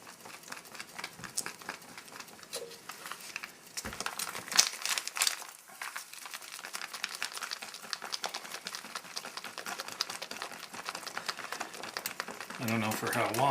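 Crinkly plastic rustling as a 2004 US military MRE food pouch is shaken, a close, continuous pattering crackle with brief pauses, while someone talks over it.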